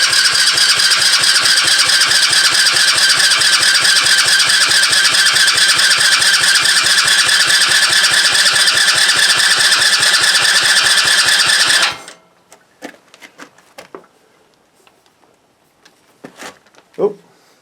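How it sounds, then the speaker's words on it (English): A mini offroad mower engine being cranked by its electric starter gives a loud, rapid, rhythmic chugging close by for about twelve seconds, then stops abruptly, followed by faint clicks and a few brief noises. "we're going to turn her over a few times with the electric starter"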